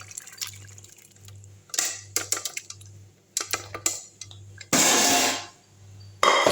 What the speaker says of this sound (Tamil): தேவையான அளவு தண்ணி ஊற்றிங்க.